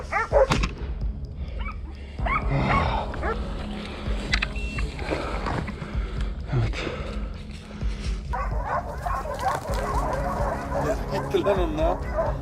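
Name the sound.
hunting dogs barking while chasing wild boars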